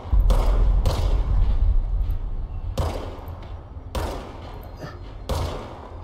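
Several heavy gunshot bursts in the video game Control, loud booming blasts with rumbling low end recurring about every second or so, a few clustered shots among them, with faint game ambience between.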